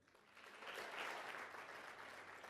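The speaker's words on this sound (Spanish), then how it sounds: "Denle aplausos al Señor." A church congregation applauding for the Lord during a sermon, a dense wash of many hands clapping that swells and holds steady, heard somewhat distant and faint.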